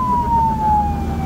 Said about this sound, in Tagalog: Kaya tumabi para sa ambulansya.